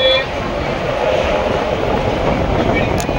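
Ratnachal Express runs along after leaving Anakapalli station, a loud continuous rumble with rhythmic wheel clatter heard from on board.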